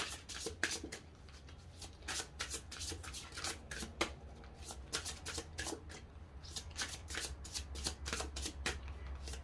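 A deck of cards is shuffled again and again, crisp riffling bursts repeating in quick succession, close and clear with no talking.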